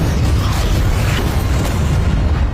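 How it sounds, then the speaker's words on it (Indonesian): A loud, sustained roar of an explosion aboard a ship in an action film, dense rumbling noise filling the whole moment without a clear single bang, no speech over it. "Ketika ledakan kedua terjadi"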